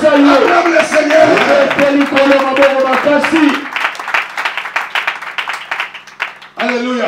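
A church congregation claps and cheers loudly, with voices and applause blending together before the noise thins into scattered claps and then swells again.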